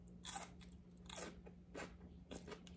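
Crunchy pepper bitten and chewed at close range during a spicy food meal: four loud, crisp crunch bursts at a steady spacing over a constant low electrical hum, with no talking.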